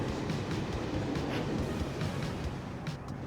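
In the video game Conduct DELUXE, a train rumbles and clatters steadily as it arrives, a loud, continuous rolling rail noise with faint clicks and no talk.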